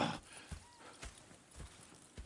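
Hooves from a horse in Red Dead Redemption 2 strike in a slow, even walking rhythm, about five soft thuds spaced roughly half a second apart against a quiet background.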